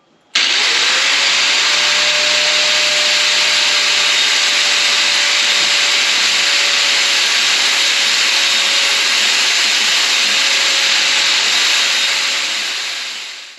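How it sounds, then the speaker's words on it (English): An angle grinder with a flap wheel grinds a metal pipe for a homemade hay core sampler, a loud, steady, close whine and hiss that starts abruptly, holds for over ten seconds, then winds down. "If I had a lathe, I could make this look really nice, but we're just going to try to do it with a flap wheel."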